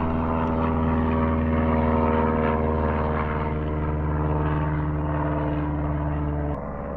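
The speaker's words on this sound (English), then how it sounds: "Yeah, plane." A propeller airplane drones overhead in a loud, steady hum for several seconds, the pitch holding even before the sound drops off abruptly near the end.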